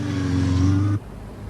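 A car on a road, part of a surveillance tail, gives a steady engine drone with a low hum that holds for about a second and then cuts off abruptly, leaving quiet background.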